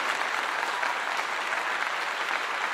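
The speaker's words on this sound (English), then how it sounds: "let's give him a clap." Steady applause from a crowd, a dense, even wash of clapping that holds at a constant level throughout, with no talking over it.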